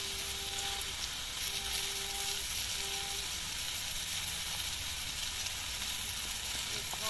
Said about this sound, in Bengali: এবারে আমরা একে একে হলুদ ও লঙ্কার গুঁড়ো দিয়ে ভালো করে লাউ আর আলুটাকে ভালো করে কষে নিই